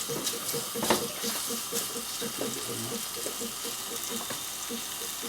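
Cooked pasta tossed into a frying pan with shallots, giving a continuous soft sizzle and crackle with a few wet stirring scrapes, close and fairly even throughout.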